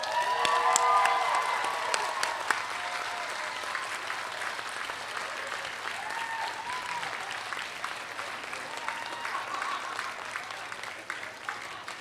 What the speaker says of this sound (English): Graduates, stand, turn, and face, and applaud the people who are here to support you.